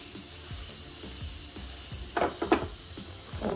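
Tempering spices sizzle in hot oil in a pan for momo chutney, a steady low crackle with a few sharper bursts of spitting toward the end, close and with no talk.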